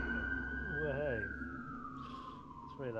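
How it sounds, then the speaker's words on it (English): Emergency vehicle siren wailing as it passes by at an outdoor athletics championship, loud and sweeping in pitch over about three seconds, with commentators' voices talking over it. "Apologies for the siren passing at the moment."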